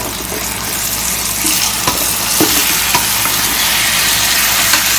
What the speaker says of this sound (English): start adding in your apples here.